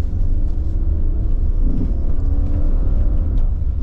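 A 2024 Subaru Crosstrek Sport accelerates, its engine a steady low rumble close by, with no talking.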